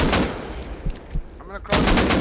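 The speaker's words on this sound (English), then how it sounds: "Hazzy AK right on base" AK rifle fire in the Rust console game, loud close bursts of several rapid shots at the start and again at the end, with scattered quieter impacts and a brief warbling sound in between.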